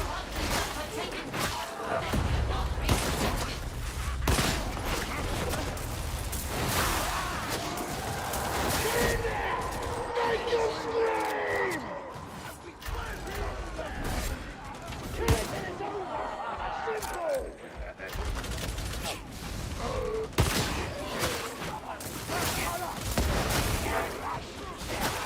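Teammates' gunfire in the video game Darktide, a dense, continuous barrage of shots and booms running the whole stretch alongside other combat noise, with people talking over it throughout.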